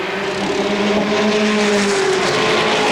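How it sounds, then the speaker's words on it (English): Race cars accelerating together at a green flag start at Motordrome Speedway, a loud, continuous roar of several engines climbing in pitch at close range, no talking. "Green flag comes out. We're up to speed and racing."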